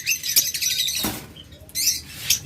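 Small caged lovebirds in a crowded bird shop give repeated shrill, high chirps and squawks in short bursts, fairly close, over a steady background murmur.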